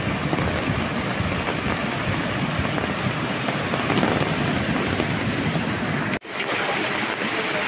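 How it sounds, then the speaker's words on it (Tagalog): Heavy rain from Typhoon Goring pours down in Occidental Mindoro, a loud, dense, continuous roar of rainfall that briefly cuts out near the end before resuming. "Kaso lumakas na naman ang ulan mga ka-squid."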